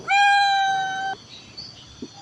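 One long, loud meow from a nearby cat, followed by quiet background with a few faint small noises.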